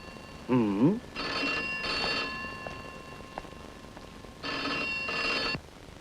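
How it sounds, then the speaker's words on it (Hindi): An old-style telephone bell rings in long bursts, three rings with pauses between, preceded by a brief warbling tone, fairly close and clear. "टेलीफोन।"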